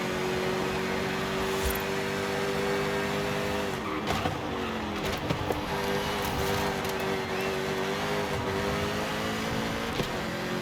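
A Jaguar SVR in Forza Horizon 5, its engine droning steadily under acceleration out of a corner, with a brief tire squeal and rising, shifting tone midway; engine noise stays loud and continuous throughout.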